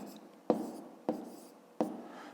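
Pen writing numbers on paper, three short scratchy strokes spaced about half a second apart, close and fairly quiet.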